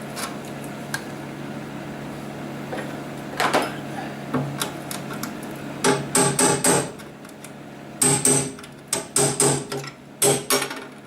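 A hammer straightens the welded edges of a rusty Triumph Herald car body panel during rust repair, with sharp metallic blows arriving in quick clusters of three or four, loud and close, separated by short pauses.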